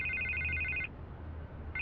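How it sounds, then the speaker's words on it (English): A telephone rings in Batman: The Telltale Series: a bright electronic trill that sounds for almost a second, goes quiet, then starts again at the end. It is clear and fairly close. "I can't get the phone to stop ringing."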